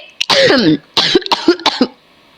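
A woman coughs in several harsh, close bursts: a long rasping fit, then a cluster of shorter hacks with throaty catches between them, loud and without speech.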